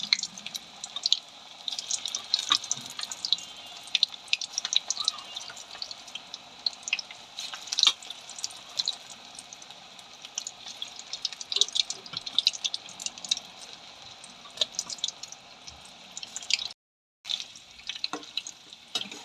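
Bread pakodi frying in hot oil, a steady fine crackle and bubbling sizzle with scattered sharp pops throughout, moderately quiet and uninterrupted by voices.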